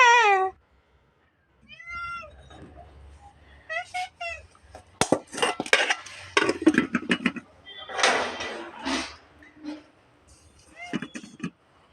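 A cat meows loudly and repeatedly indoors, with several long, rising and falling cries spread across the stretch, mixed with thumps and clatter and a person talking in between.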